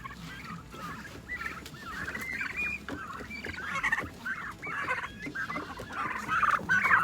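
Turkeys gobble continuously, a dense overlapping chorus of burbling calls that grows louder toward the end, close by with no talking.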